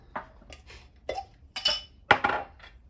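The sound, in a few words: glass jar being handled for refilling with ginger powder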